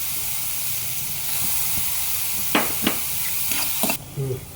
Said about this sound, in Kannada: ಈಗ ಇದು ಎರಡು ನಿಮಿಷ ಫ್ರೈ ಆಗಿದೆ